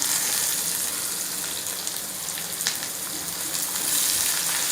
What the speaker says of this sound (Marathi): त्याची मी आता कांदा घालूया आपण